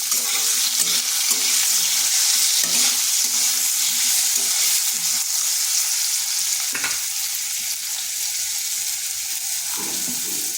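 Chickpeas and lightly fried potatoes sizzle steadily in a pan, with intermittent scraping and stirring clatter from a utensil throughout, loud and close, with no talking.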